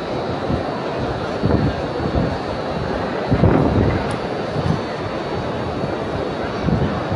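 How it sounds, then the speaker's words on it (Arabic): Loud, gusty wind roaring across the microphone as rain is driven over Mecca's Grand Mosque, a continuous rushing buffet with stronger gusts swelling and fading. "طبعا يدفعها رياح قوية"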